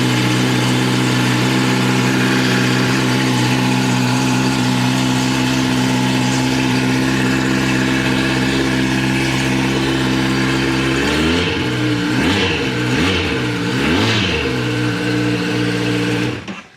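Kawasaki Ninja 1000 and ZX-10R superbike engines idle loudly and steadily up close, then give several sharp throttle blips that rise and fall in pitch near the end, with no talk over them.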